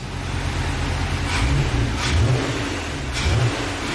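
A VW Passat R36 engine, jump-started in its engine bay, revs in several sharp blips over a steady idle, each rising then dropping back, loud and close.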